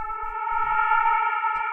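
A metallic synth drone for an electro/ghettotech track, detuned and run through a low-pass filter moved by an LFO, holds steady bright tones throughout while faint low thumps tap underneath.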